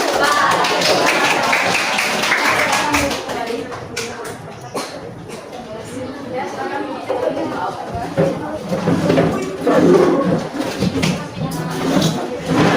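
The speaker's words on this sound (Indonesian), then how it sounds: "Tepuk tangan untuk kita semua." Applause from a training-session audience after a coaching presentation: clapping and tapping rise and fall over several seconds, mixed with voices talking in the room.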